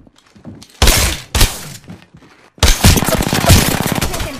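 Gunfire in the video game Apex Legends: a short loud burst, a second brief burst, then a sustained rapid automatic volley, sharp and close.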